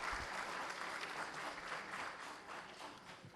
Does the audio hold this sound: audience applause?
yes